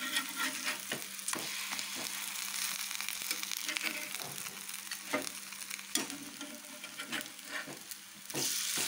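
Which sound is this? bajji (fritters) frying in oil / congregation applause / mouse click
bajji (fritters) frying in oil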